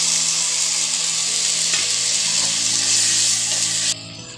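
Tomato sizzles and fries loudly in hot oil with ginger garlic paste for dal khichdi, a dense continuous crackle with occasional stirring scrapes, cutting off sharply near the end, no talking.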